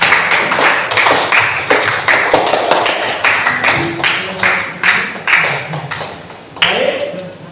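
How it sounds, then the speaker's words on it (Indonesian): Classroom applause for a teacher during a practice lesson, a run of quick, fairly loud hand claps with an uneven rhythm and a voice talking over part of it. "beri tepuk tangan untuk Pak Marina"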